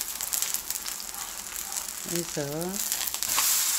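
Jangtteok batter, a Korean pancake batter with gochujang, sizzles and fries steadily in a hot pan, with a brief voice heard over the crackle.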